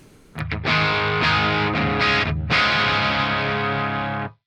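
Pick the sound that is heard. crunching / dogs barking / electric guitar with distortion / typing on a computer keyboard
electric guitar with distortion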